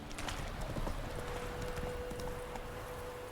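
Rhythmic clip-clop of a horse's hooves in The Witcher 3, a quick steady trot close by with a faint neigh early on, loud over the game's ambient background.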